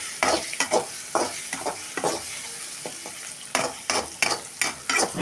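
A spatula scrapes rhythmically through food frying in a pan over the gas flame, about a dozen distinct stirring strokes over a steady close sizzle, no one speaking.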